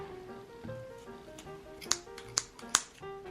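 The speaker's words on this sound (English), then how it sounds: "Now we're just going to start cutting these loops." Sharp scissors snipping through wrapped yarn loops to make a pom-pom, three crisp cuts close by over a faint background hum.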